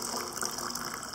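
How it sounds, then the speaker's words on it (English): Very hot water poured from a kettle into a glass, about 250 millilitres, for a starch solution: a steady, close gushing pour with a bright splashy hiss, heard alone and continuous throughout. "we need to take some very hot water from the kettle here, about 250 mils"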